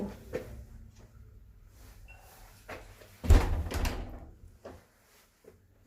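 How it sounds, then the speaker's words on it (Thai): A door is shut at the entrance of a Thai-German Buddhist temple in Berlin, giving one loud, close thud about midway, followed by a short rattle and then quiet room tone. "ปิดประตู"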